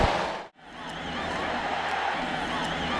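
Crowd at a college football stadium, a steady broad roar of cheering that briefly drops out near the start and then swells back, with a distant whistle-like tone riding over it.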